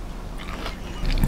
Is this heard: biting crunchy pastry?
yes